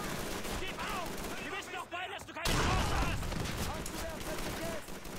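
Rapid gunfire from Call of Duty 3, a dense continuous crackle of shots that swells louder halfway through, with voices talking over the battle noise.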